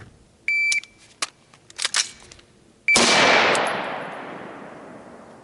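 An AR-15 rifle with a 13.7-inch barrel and ACOG optic fires one loud, sharp shot at a range, its report decaying for a couple of seconds, after earlier electronic timer beeps and clicks.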